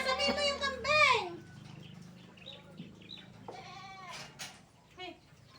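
A goat bleats loudly and close by, with a few wavering calls in quick succession followed by softer bleats, while a voice is heard faintly in the background.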